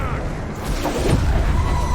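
A deep cannon boom in the video game Guild Wars 2 rolls out amid a dense, noisy battle din, with a rumbling blast swelling in the second half.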